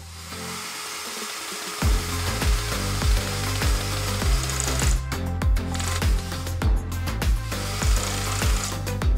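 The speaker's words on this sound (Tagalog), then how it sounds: "it's time to get the drill to do some final mounting" A power drill mounts shelves during a bedroom office makeover, spinning up in a series of repeated short, evenly spaced bursts after a brief quieter start.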